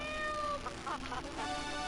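A cat meows in the video game GTA III, several short close mewing calls over a steady bed of game music and ambient background.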